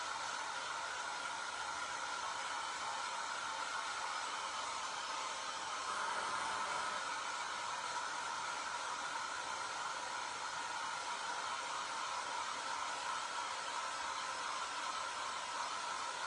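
A hair dryer blows continuously to dry paint on pumpkin decor, a steady airy whir with a mid-pitched motor hum that holds at a constant level throughout.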